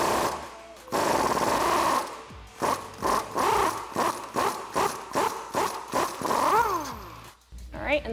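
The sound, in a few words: socket wrench disconnecting Jeep Wrangler JK track bar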